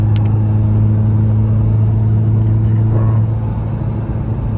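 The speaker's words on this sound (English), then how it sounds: "This car is hella drone." A built Honda Civic droning loudly while driving, with a steady, heavy low exhaust hum that stays constant the whole time, plus road rumble and a faint high whine.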